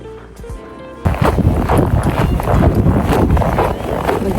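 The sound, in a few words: strong wind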